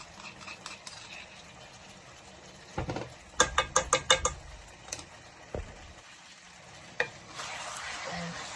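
Chicken with garam masala is stirred in a hot pan with a few quick clinks and scrapes of a utensil over a low sizzle, with quieter stretches between strokes.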